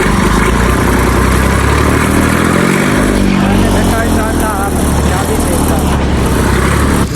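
A tractor engine idles steadily under repair by a mechanic outdoors, a loud continuous mid-pitched rumble throughout, with people talking over it.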